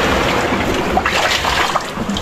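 Water trickling and splashing steadily into a boat's hull, a continuous close wash of dribbling and sloshing with no talk.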